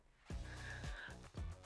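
Dog snoring close by in a quiet room, three slow rhythmic snorting breaths spaced about half a second apart, soft and low.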